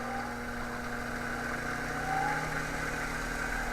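A dirt bike CDI test fixture spins at about 1,000 RPM, giving a steady, moderately quiet mechanical hum with a faint whine that holds even for the whole stretch.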